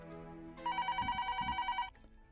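A telephone bell rings in a home, one fast trilling burst of just over a second, clear and fairly close, with no talk over it.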